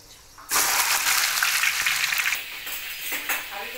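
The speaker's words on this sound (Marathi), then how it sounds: "आता आपण हा सर्व कांदा जो मोकळा करून ठेवलेला आहे तो इथे फ्राय करून घेऊया" Onions for chicken biryani drop into hot oil and start frying with a sudden loud sizzle that then settles into a steady, slightly fading crackle, close by and without talk.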